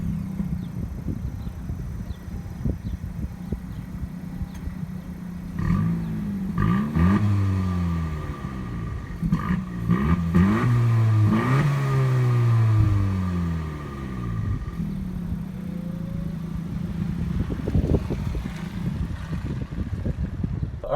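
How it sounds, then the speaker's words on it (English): A 2019 Honda Civic Si coupe's engine revs up loudly several times over a steady idle, each blip rising and falling in pitch before settling back, recorded up close with some wind noise. "Listen to the car."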